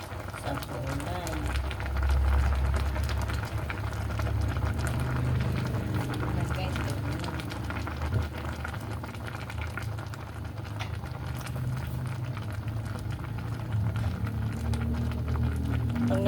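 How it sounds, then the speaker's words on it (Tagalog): Paksiw fish stew with talakaok bubbling at a steady boil in a pot on the stove, a continuous soft simmering patter heard up close, while a person talks over it. "kumukulo na"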